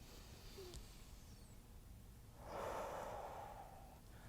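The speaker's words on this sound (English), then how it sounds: "taking a couple of really deep" A person takes a deep breath, a soft airy inhale that swells briefly and then fades, faint and close against quiet background hiss.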